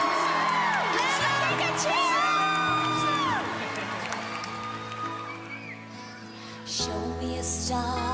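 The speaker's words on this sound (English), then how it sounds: "here comes Santa, guys. Give him a cheer!" Children cheering and whooping for Santa at a Christmas show, excited overlapping shouts and calls rising at once, loud and close, with music and other voices mixed in.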